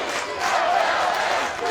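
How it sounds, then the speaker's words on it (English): A baseball crowd at Jackie Robinson Stadium during a UCLA versus Michigan game makes a continuous loud roar that swells briefly in the middle, with no clear voices standing out. "Crowd still making a lot of noise here at Jackie Robinson"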